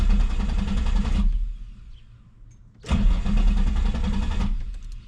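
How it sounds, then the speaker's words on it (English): A Nissan 350Z with a crank-but-no-start fault: the starter cranks the engine in a loud, steady churning burst, stops briefly, then cranks again for a second long stretch without the engine catching. "But let's see what happens when we crank it."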